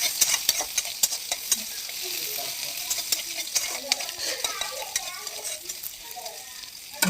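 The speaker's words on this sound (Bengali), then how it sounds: "দিয়ে দিলাম পেঁয়াজ কুচি।" Chopped onion sizzles in hot mustard-oil-style frying oil with panch phoron, a steady loud crackling hiss with repeated scraping stirs from a spatula against the pan throughout.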